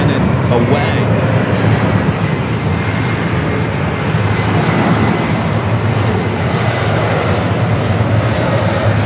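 A United Express SkyWest E-Jet arriving at Los Angeles airport, its engine roar loud and steady for the full stretch, a continuous broad rush with no breaks.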